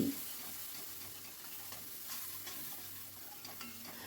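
Spice masala with ginger paste is stirred and fried in a pan, a faint, even sizzle with soft scraping and a few light ticks of the spoon, heard up close and alone.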